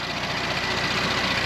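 Porsche Macan GTS with a 2.9-litre twin-turbo V6 running steadily close by, a dense, even rumble with a slight pulsing throb and no voices over it.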